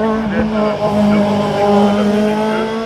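A race car at a national hill climb in Hébécrevon roars past close by, its loud engine note rising and holding steady, while a commentator's voice carries over the top.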